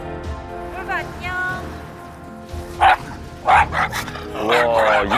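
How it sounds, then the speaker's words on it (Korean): A mixed-breed dog bares its teeth and barks in sharp, loud bursts up close, with whimpering and yipping between the barks while people talk nearby. "이빨을 드러내면서까지 짖네"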